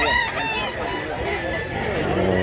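A rooster crows loudly and close at a busy chicken market in Mantalongon, Barili, Cebu, with a crowd murmuring and talking in the background.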